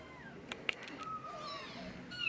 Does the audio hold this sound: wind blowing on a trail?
no